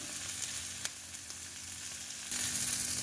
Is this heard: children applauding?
no